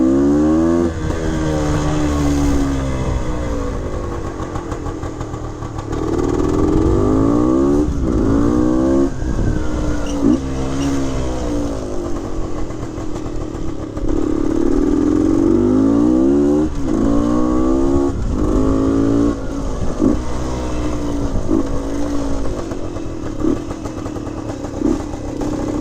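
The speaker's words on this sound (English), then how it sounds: "Looks and runs like a brand new motorcycle." A 1974 Bultaco Alpina 250cc motorcycle engine revs loudly and close, its pitch climbing and falling in repeated throttle blips over a steady idle that runs throughout.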